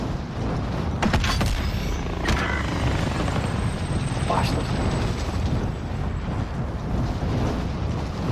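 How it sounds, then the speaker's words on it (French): Helicopter rotor noise from a shooter game, a steady broadband mechanical roar held loud and constant throughout, with a few brief clanks and bursts near the start. "On vous envoie un hélico pour le dépôt"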